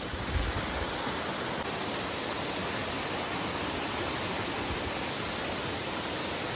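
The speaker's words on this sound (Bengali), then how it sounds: "ফাইনালি হচ্ছে আমরা জিবি ওয়াটারফলসের সামনে" Jibhi waterfall in a Himachal forest, a steady dense rush of falling water, loud and unbroken, with no voices over it.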